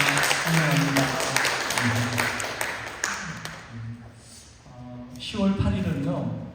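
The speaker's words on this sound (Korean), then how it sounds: "우리 박수로 환영해 드리도록 하겠습니다" Church congregation at a Sunday service clapping to welcome a returning visitor, moderate scattered applause under a voice speaking over it, with a brief lull before more voices and clapping pick up near the end.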